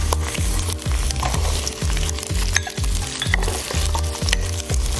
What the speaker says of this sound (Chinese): 油热了以后呢我们就放上南姜，放大蒜、